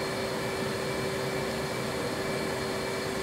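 Steady, loud whine and roar of an F/A-18C jet engine taxiing toward the runway in the DCS World flight simulator, constant and unbroken throughout, with no talking.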